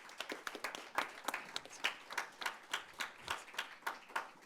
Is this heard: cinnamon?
no